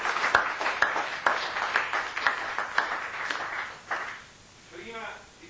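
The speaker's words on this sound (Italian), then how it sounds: "un applauso" An audience claps through the opening seconds, a dense patter of hands that thins and fades out before a voice begins to speak near the end.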